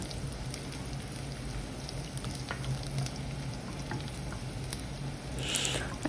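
Garlic sizzles steadily in a hot pan for chicken adobo with coconut milk, a dense continuous frying hiss with occasional stirring scrapes and a brief brighter burst near the end, no talking.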